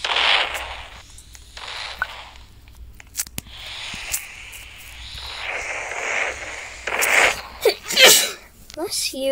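Several sharp sneezes, close and loud, spaced out amid breathy noises and a person talking, during play of a Roblox doomspire game.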